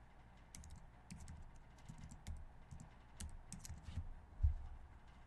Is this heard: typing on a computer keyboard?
yes